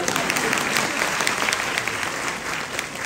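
Audience applause at the launch of the Sangathan Se Samriddhi Abhiyaan event, a dense, steady wash of clapping from a large crowd that holds at an even volume throughout.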